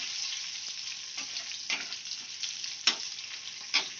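Chickpea masala with curry leaves frying in a pan, a steady sizzle broken by a few sharp stirring scrapes and spatters, close and alone with no voices.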